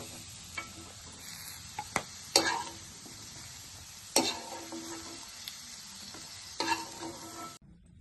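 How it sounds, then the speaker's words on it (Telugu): Nalleru stems with tamarind frying in a pan, a soft steady sizzle broken by sharp scraping clicks and knocks of a spatula stirring, with no talk, ending abruptly. "ఇలా వేగుతున్న వాటిలో కొంచెం చింతపండు వేసుకున్నాం"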